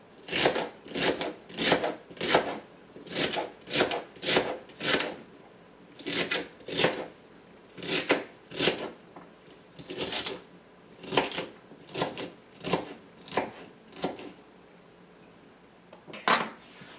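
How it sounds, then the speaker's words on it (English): A knife chops two celery stalks into small pieces on a board, with crisp, evenly spaced strikes in quick runs and short pauses between them, close and clear with no talking. "this was 2 stalks, and we're just gonna chop this up small"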